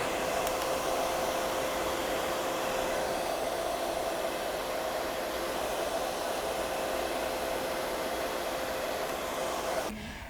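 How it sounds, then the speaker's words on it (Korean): A hair dryer blows steadily over keratin-treated hair during a curl-straightening treatment, a loud continuous airy whoosh with a thin whine that holds for about ten seconds before cutting off abruptly at the end. "드라이기를 활용하여서 단백질을 고정화시켜주는 작업을 합니다"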